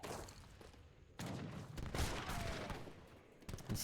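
Organ guns firing in an Age of Empires III battle, a loud crackling volley of gunfire in bursts, with a sudden swell just past one second and overlapping shots to the end.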